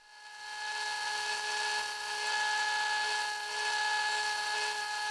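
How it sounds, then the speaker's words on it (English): A bandsaw roughs finger indents into a replacement handle for an old knife, giving a steady, close, continuous whine with a constant tonal hum that holds for the whole stretch. "I can now rough out the finger indents with the bandsaw."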